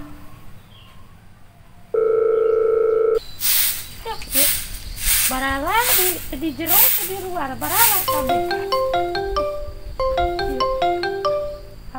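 A telephone keypad tone sounds, then a synthetic ringtone melody plays loudly and repeatedly in a Sundanese comedy skit, with a voice speaking briefly over it.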